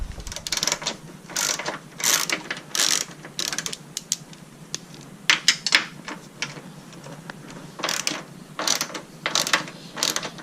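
A ratchet wrench loosens the 12 mm shock mount bolts on a BRZ/FRS/GT86, producing bursts of rapid clicking ratchet strokes separated by pauses, close and clear with no talk.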